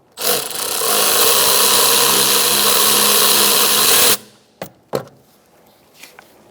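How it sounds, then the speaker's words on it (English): An 8mm wrench undoes a bolt on the 1.4L four-cylinder engine of a 2012-2019 Fiat 500: one loud, steady whirring burst lasting about four seconds, then a few sharp clicks and knocks. "get your 8mm back here and undo that bolt as well"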